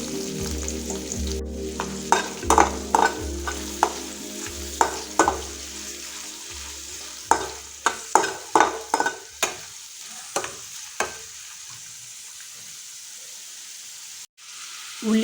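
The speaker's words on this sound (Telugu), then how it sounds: "అవి కొంచెం వేగాక ముందుగా మనం కట్ చేసి పెట్టుకున్న ఆనియన్స్ని వేసుకుంటాం" Chopped onions dropped into hot oil with tempering spices for an Indian spinach curry, loud sizzling joined by a series of sharp stirring scrapes that thin out toward the end.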